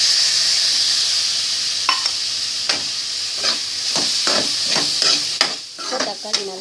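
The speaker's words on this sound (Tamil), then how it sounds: "இப்போ தக்காளி நல்லா வதங்கட்டும்." Tomatoes sautéing in a pan for Tamil fish curry, a close, steady sizzle punctuated by repeated spatula scrapes and stirring clicks at an irregular rhythm.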